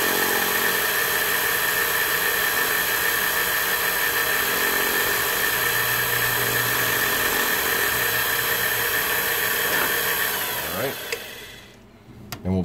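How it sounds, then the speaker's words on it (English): A power sander works the beveled edge of a flywheel mold pattern for brass casting, giving a steady, loud whirring drone that runs continuously before tapering off near the end. "I'm going to go ahead and sand that as well"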